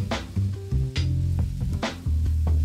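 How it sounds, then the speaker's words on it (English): Rice being stir-fried for shrimp fried rice with frozen vegetables, a steady close sizzle broken by scraping, clattering strokes of a utensil through the pan, with no talking. "So start stirring the rice and mixing everything in."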